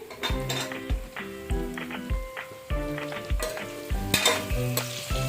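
Carrots, ginger and garlic frying in a pan for soya chunk biryani, with repeated spatula strokes and pan clatter over a continuous close sizzle, no talking.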